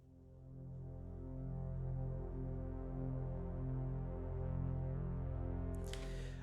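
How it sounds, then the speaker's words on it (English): A Forbidden Planet 2077 synth drone pedal tone for a sports drama score, holding a low, steady, throbbing hum that swells slightly and stays alone until a brief bright noise at the very end. "Forbidden Planet 2077, this is my synth to kind of give it some oomph"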